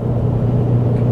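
A Ford Mustang EcoBoost engine idles steadily with a low, even rumble, close and fairly loud, holding the same tone throughout the short stretch with no voices.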